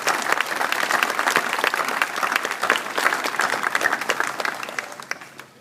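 A crowd applauds veterans during a 2012 Memorial Day speech, with dense, steady clapping at moderate volume that fades out near the end.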